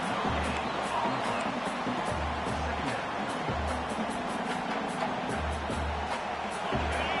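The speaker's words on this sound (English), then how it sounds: "they try to quiet this raucous, crazy crowd" A large stadium crowd at a Clemson college football game roars with a dense, steady wash of cheering and noise, loud throughout, with pulsing low thumps underneath.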